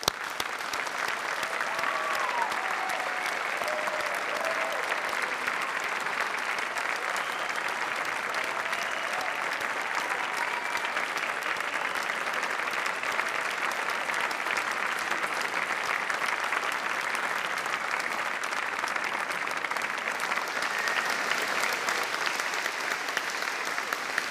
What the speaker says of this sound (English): I'd like to ask everybody else to join me with one final round of applause and congratulations